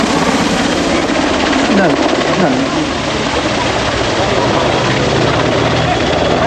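An EH101 Merlin helicopter flies during an air display, its loud continuous rotor and engine roar filling the scene, with a voice speaking briefly over it.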